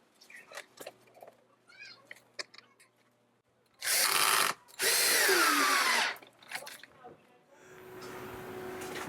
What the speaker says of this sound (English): Now I'll just screw this onto the trellis.